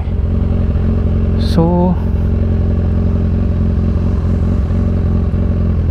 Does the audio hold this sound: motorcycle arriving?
yes